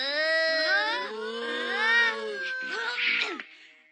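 Cartoon cat meowing in a series of drawn-out, wavering, high cries that bend up and down, loud and close, with no talk over them.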